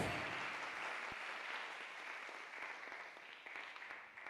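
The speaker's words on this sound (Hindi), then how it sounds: "A big hand of applause." Church congregation applauding together, a steady broad wash of clapping that holds at an even level for several seconds with no talk on top.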